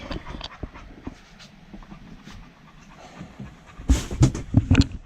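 A dog pants in the heat inside a hot sailboat cabin, with quick, rhythmic close breaths growing louder and more rapid toward the end.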